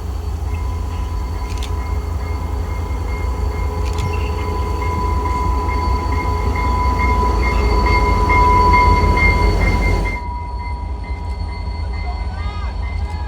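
Portland & Western locomotive 2315 rolls past a station platform with a steady, loud rumble of engine and rail noise that holds, swells slightly near the end, then cuts off abruptly.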